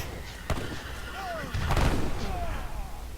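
Cannons fire in the real-time strategy game Age of Empires III, with two heavy booms ringing out over a steady battle din while a commentator talks throughout.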